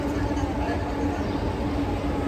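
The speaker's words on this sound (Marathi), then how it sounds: "हे बघा त्या ट्रेन येऊन येऊन त्याचा ट्रेनचा आवाज" A train pulls into Kharghar railway station with a steady, loud rumble and broad rushing noise that holds evenly throughout, with a faint constant hum over it.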